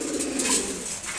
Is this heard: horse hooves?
no